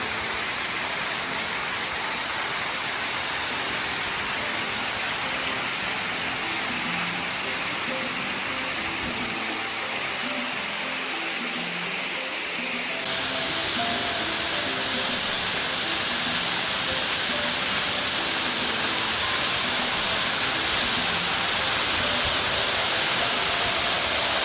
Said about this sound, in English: Quite a cool waterfall so far.